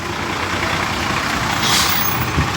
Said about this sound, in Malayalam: വണ്ടി എത്തി.